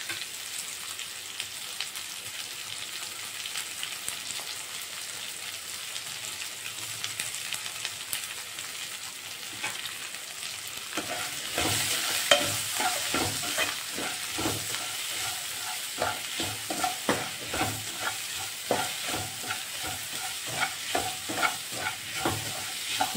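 Chopped onions with salt sizzling in a pan on the stove, quiet at first, then louder frying with frequent scraping stirs of a spoon across the pan.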